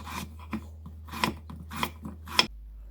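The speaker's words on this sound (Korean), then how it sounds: "무도 알배추처럼 나박나박 썰어줍니다." A knife slices radish into thin square pieces for nabak kimchi, with five or six crisp separate cuts, each a short scrape against the board, set apart by quiet pauses.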